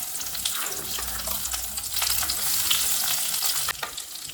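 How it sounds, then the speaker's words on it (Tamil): Ground onion paste frying in oil with mustard seeds in a pan for onion thokku, a dense close crackling sizzle with stirring scrapes, no talking. "இப்போ இந்த வெங்காய விழுது வந்து நல்லா இந்த எண்ணெயிலே வதங்கி வரணும்"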